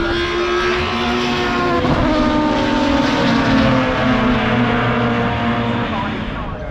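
Thunder Saloons race cars lap Brands Hatch GP in qualifying, a loud, sustained engine roar passing nearby with layered tones rising and falling, mixed with voices from the watching crowd.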